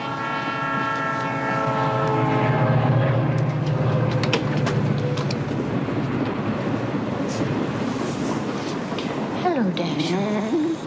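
A train rolls steadily along the rails with a long, loud horn-like blast layered over the running noise, close and continuous throughout.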